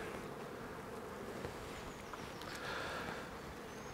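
A dense, continuous buzzing of many honeybees close by during the move of a nucleus colony into a hive, steady and droning throughout with no voices.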